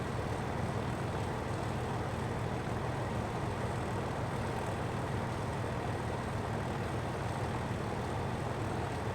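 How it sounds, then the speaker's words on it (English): An HST train's diesel power cars idle as generators for the coaches at a station, probably Tiverton Parkway, making a constant low engine drone that stays level throughout. "you can hear the power cars on"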